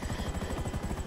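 A helicopter's rotor throbs in a steady, rapid beat, moderately close and constant throughout the short moment, with no voices over it.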